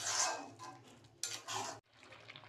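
Grated carrot halwa is stirred in ghee in a pan: soft scraping and clinking of a spoon against the metal, in a few uneven strokes with brief pauses, fairly quiet and close.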